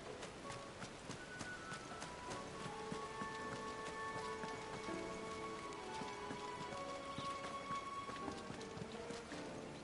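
Steady rain falls over wet rocky ground in Final Fantasy XVI, a dense, even patter that lasts the whole stretch with faint tonal game sounds layered above it and no voices.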